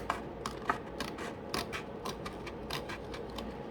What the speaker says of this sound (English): I should be able to get my scissors in there